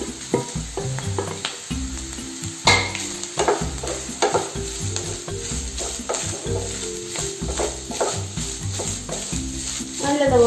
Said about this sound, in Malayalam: തേങ്ങ നല്ലതുപോലെ വറുത്തെടുക്കണം.